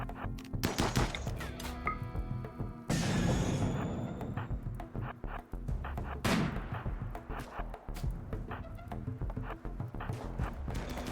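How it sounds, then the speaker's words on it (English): Doomsday rocket launcher blasts in RimWorld, a dense run of sharp booms and crackling impacts that keep coming at a steady clip, with a larger blast partway through, all fairly quiet in the mix. "they are indeed using Doomsday Launchers to sap"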